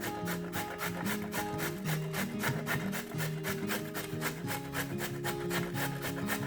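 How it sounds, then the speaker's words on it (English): A carrot scraped against a grater with steady back-and-forth rasping strokes, close and continuous, at a brisk, even rhythm with no talking. "Grate the carrot."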